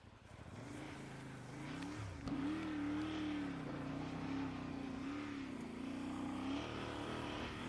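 Voge DS800X Rally motorcycle engine droning steadily on a muddy, rutted trail climb, with pitch rising and falling as the throttle changes and a brief bump near the middle, close and continuous throughout.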